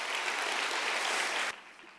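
Church congregation at a Sunday morning university service clapping steadily in a dense, even wash, then cutting off abruptly partway through, leaving quiet room tone.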